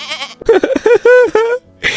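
A goat, a pet kept for Eid sacrifice, lets out a loud, close, wavering bleat in several pulses, with a voice speaking before and after it.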